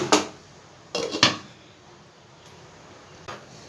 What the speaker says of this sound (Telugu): ఒక టూ మినిట్స్ నేను మూత పెట్టి ఉంచుతాను